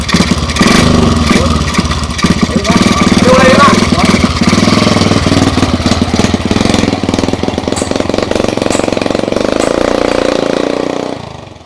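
A motorcycle engine runs loud and close with a rough, rattling idle, while people talk over it in Sundanese.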